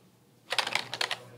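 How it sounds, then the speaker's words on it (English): Keys on a USB keyboard hooked up to a set-top box are typed in a short, close burst of about eight crisp clicks after a quiet start. "You can actually enter your password with a USB keyboard."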